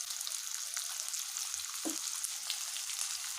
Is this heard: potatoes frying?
yes